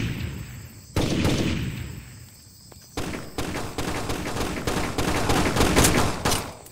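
Gunfire in Rainbow Six 3: Raven Shield multiplayer: a sharp burst opens, then after a quieter lull dense rapid automatic fire crackles steadily to the end, near and loud, with no talk.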